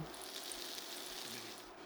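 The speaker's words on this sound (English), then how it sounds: "You wanna get a nice sear on these. Listen to that sizzle." A soft, steady sizzle of beef searing in hot oil, a continuous crackling hiss with no voices.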